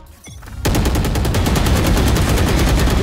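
Rapid gunfire from the Valorant tactical shooter bursts in after a brief quiet lead-in, a loud, evenly spaced stream of shots filling the rest of the moment without pause.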